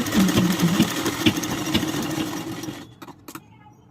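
A sewing machine runs a steady, fast stitch along a second seam on a blouse neck piece, loud and close, then cuts off near the end, leaving a few faint clicks and taps.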